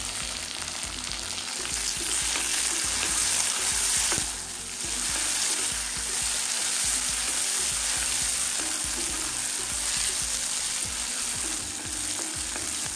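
Chopped ripe tomato sautés in a pan for okra sambar, a dense continuous sizzle with frequent light stirring clicks and a brief dip partway through.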